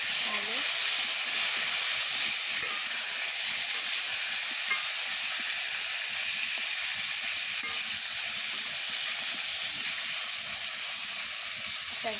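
Potatoes fry in a pan with turmeric, salt and dried chillies, giving a steady bright sizzle and hiss throughout with faint stirring scrapes underneath.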